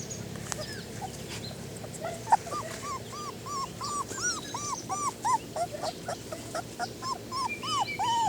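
A litter of young puppies still nursing with their mother whimper and yip in a steady chorus of high, rising-and-falling cries, repeating close by and getting busier over several seconds.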